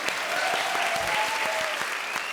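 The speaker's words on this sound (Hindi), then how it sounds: "जोरदार तालियां इनके लिए भाई" A comedy show audience breaks into loud, sustained applause for film director David Dhawan as he arrives, a dense wash of clapping filling the room.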